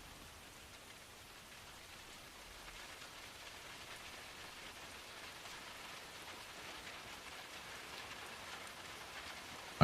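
Steady rain falls in a continuous, even hiss of dense drops on surfaces, gently building in loudness across the stretch, with no voices.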